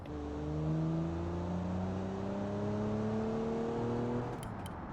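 A car in the driving game BeamNG accelerates flat out, its engine droning with steadily rising pitch through gear changes, loud and continuous with no talk.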